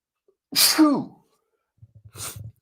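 A single sharp sneeze with a breathy intake, close and loud, followed by a brief rustle and low muffled noises.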